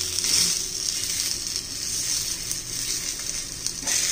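Methi balls (fenugreek-leaf fritters) frying in hot oil in a pan, a steady close hiss and crackle of bubbling oil running throughout with no talk.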